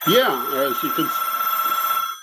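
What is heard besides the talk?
telephone bell ringing in an office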